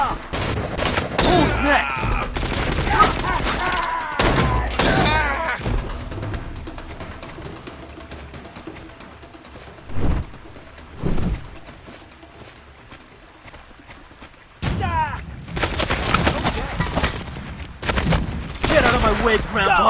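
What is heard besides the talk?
gunfire in video game Legend Arya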